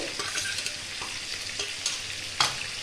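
Chicken pieces fry in hot oil in a pan, a steady close sizzle with occasional stirring clinks and scrapes and no talking.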